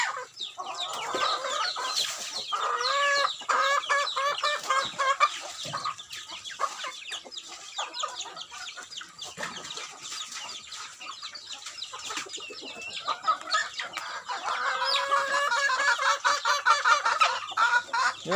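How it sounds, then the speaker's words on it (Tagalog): Several native Bisaya chickens cluck and chatter nearby in a busy, continuous flock, with brief louder squawks rising above the murmur and no speech. "Ayun, mga manok Bisaya."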